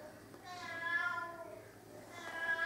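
A house cat meows several times, drawn-out mid-pitched calls rising and falling, fairly close in a quiet indoor room.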